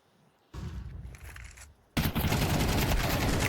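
Rapid rifle fire bursts in a Counter-Strike 2 match at a PGL Bucharest 2025 quarter-final, a short volley followed by a louder, sustained barrage, with no voices over it.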